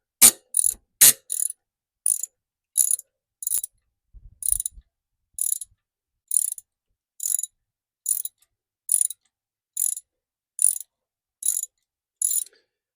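A 1/2-inch ratchet clicks in a steady, regular series on a Jeep Wrangler TJ belt tensioner bracket bolt, after a couple of louder opening clicks, crisp and close with nothing else heard.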